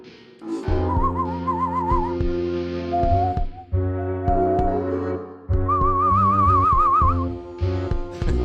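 A person whistles a warbling, trilling call in several phrases, imitating a lizard's chirp, clear and close with brief pauses between.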